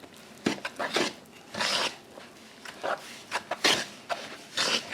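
Buttermilk biscuit dough being stirred in a bowl, giving repeated scraping, rubbing strokes in uneven bursts, close and moderately loud with no talk.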